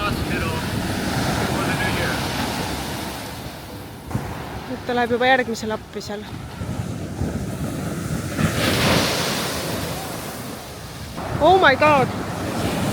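Ocean surf breaks steadily on the shore at Waimea, Hawaii, a loud continuous wash with gusts of wind buffeting the microphone, while people talk and exclaim over it.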